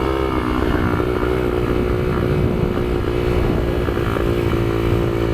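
A highly modified Kayo MR125 motorcycle lapping a kart track, its small single-cylinder engine buzzing loud and close with a steady, rasping drone and slight pitch wavers as the throttle holds.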